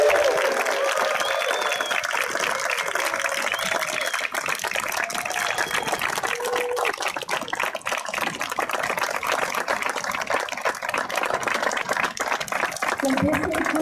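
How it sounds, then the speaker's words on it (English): Applause for a graduating eighth-grade class at an Our Lady of Angels School ceremony fills the whole stretch as a dense, even, continuous patter from a crowd, with no break or rise in intensity. "let's have one last round of applause for the class of"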